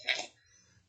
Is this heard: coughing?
yes